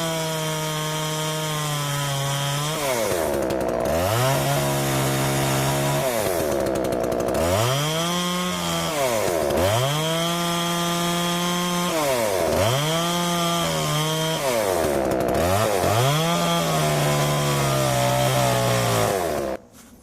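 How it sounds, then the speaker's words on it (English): A chainsaw cuts through a thick English ivy vine, loud and close, its engine revving up and dropping back in repeated waves before cutting off abruptly at the end. "So we're going to use a chainsaw."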